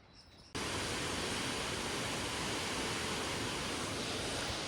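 A waterfall near Arenal Volcano in La Fortuna, Costa Rica, roars as a dense, steady rush of falling water that starts abruptly after a short, quieter lead-in and then holds loud and unbroken.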